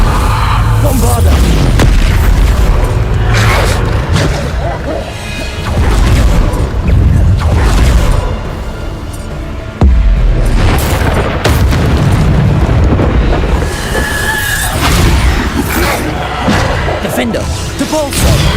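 Repeated booming blasts of Bombarda explosion spells in the Hogwarts Legacy video game, loud and dense over a continuous roar of combat effects, with voices calling out spells throughout.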